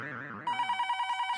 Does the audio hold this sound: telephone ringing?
yes